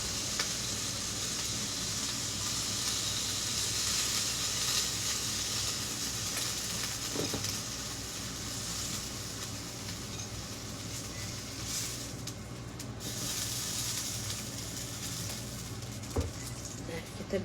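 Steady sizzle of food being sautéed in a pan for kaffir lime leaf rice, a continuous frying hiss with occasional stirring scrapes, close and fairly loud throughout.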